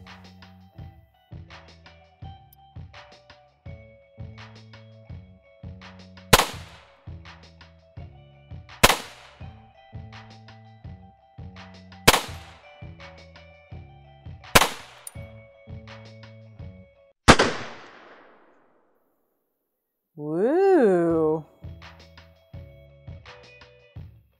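A Steyr-Pieper Model 1909 .32 pistol fires five loud, sharp shots spaced a few seconds apart, each ringing off briefly, over a rhythmic musical backing that ends in a rising, warbling tone.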